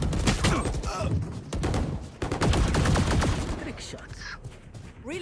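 Valorant gunfire during a pro esports match, with loud rapid bursts and single shots cracking through a busy mix of game effects and voices talking across the whole stretch.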